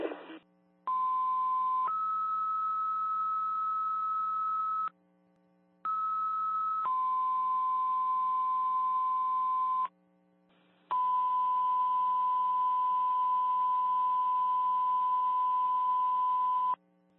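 Loud, steady two-pitch fire dispatch alert tones for Alstead, New Hampshire, during a building fire, stepping between notes in long sustained blasts, broken by brief pauses, with a low hum underneath.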